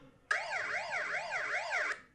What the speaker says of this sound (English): That must be my siren for we're on.